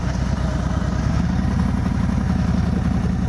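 Harley-Davidson Road King fitted with an S&S muffler idles with a steady, deep, loping rumble and light mechanical clatter, close and continuous.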